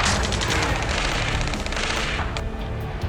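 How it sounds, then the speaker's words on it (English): Dense gunfire in the video game Ace Combat 7 during a ground battle, a loud continuous wash of rapid shots and blasts filling the whole stretch before easing off slightly near the end. "Taking fire! We're pinned down! Shoot back!"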